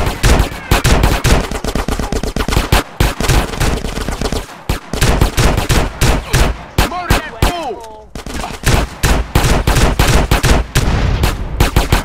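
Combat shotgun in GTA San Andreas during a six-star wanted-level shootout, fired in dense loud repeated blasts mixed with other gunfire, with short gaps and chaotic overlapping shots throughout.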